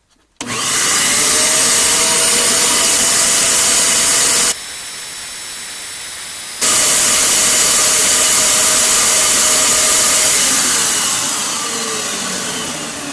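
Home-built vacuum forming rig pulling heated plastic from a promotional credit card, a loud steady broadband suction roar that drops to a lower level briefly midway, then resumes at full strength and slowly tapers.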